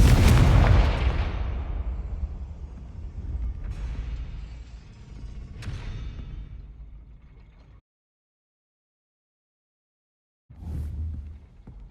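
Explosive Bombarda and Confringo spells in Hogwarts Legacy: a loud booming blast followed by two further rumbling bursts, then silence and a final shorter boom.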